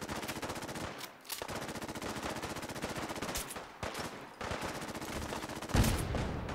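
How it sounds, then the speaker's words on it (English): Continuous rapid automatic gunfire in Fallout 4, a dense loud rattle of shots with brief pauses and a heavier burst near the end. "Gun sounds like mean and sneezy."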